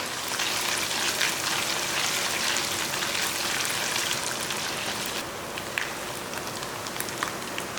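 Coconut pieces sizzle and crackle steadily in hot ghee for sweet pongal, a dense, close, continuous frying hiss that eases slightly partway through, with no talking.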